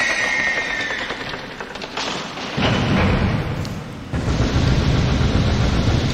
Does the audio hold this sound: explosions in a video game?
yes